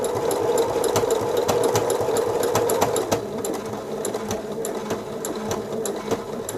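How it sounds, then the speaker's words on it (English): A Pfaff Passport sewing machine stitches a buttonhole with a fast, even mechanical whirr and rapid needle ticks, easing off briefly partway through before continuing close and clear. "sewing a buttonhole for you. And when it gets to the end, it will stitch in 3 places"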